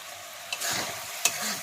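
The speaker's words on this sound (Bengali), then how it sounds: "পনিরটা দিয়ে ভালো করে একটু কষাতে হবে এটাকে" Crumbled paneer, about 100 grams, sautéed in a pan with yogurt and a little sugar, crackles in a continuous moderate sizzle, broken by two sharp clinks of a spatula against the pan.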